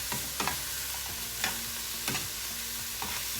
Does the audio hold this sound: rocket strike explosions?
no